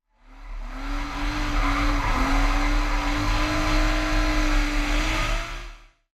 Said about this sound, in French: paf, tu tapes un drift. Comme ceci.